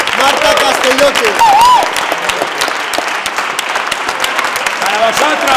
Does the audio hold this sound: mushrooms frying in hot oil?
no